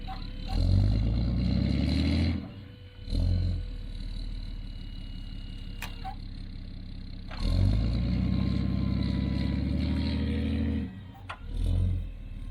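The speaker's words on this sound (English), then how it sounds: "You can see the wheels are spinning." A vehicle's engine roars in two loud revving bursts as its wheels spin in snow during an off-road recovery, with a steadier idling rumble and occasional clanks between the surges.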